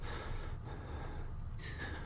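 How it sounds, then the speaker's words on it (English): Heavy, breathy gasps and snorting breaths of the player character in the horror game Outlast, close and continuous for about two seconds, with a brief higher tone near the end. "I don't need you heavy breathing right now."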